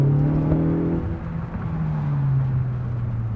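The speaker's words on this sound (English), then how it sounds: "This exhaust sounds really good." A sports car engine hums steadily with a deep exhaust drone that rises and falls slightly, close by, with no talking.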